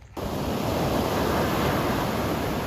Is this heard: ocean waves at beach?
yes